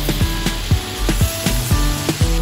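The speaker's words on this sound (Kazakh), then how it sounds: "қызып тұрған майға фаршымызды салып, тұзымызды шамалап салып," Minced meat frying in hot oil with salt, for a funchoza salad: a steady close sizzle broken by a quick run of regular knocks and scrapes in the pan.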